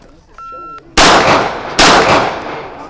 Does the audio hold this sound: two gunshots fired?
yes